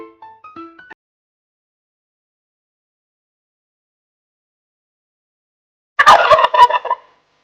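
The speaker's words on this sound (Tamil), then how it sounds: "வான்கோழி" A turkey gobbles once in a loud, rapid, warbling burst after a long silence, preceded by a brief chirpy bird call at the start.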